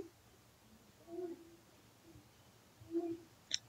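An owl hoots twice, low soft calls spaced a couple of seconds apart, faint against a quiet background, followed by a brief higher sound.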